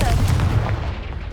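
Confringo spell blast in the Hogwarts Legacy video game, a single close, loud, heavy booming burst with a low rumbling tail.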